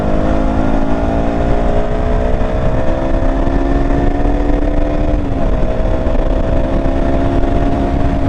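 A 2019 KTM Duke 200 motorcycle engine revs hard while overtaking, a loud, steady high-pitched drone with rising then dipping tone, heard close up over road and wind rumble.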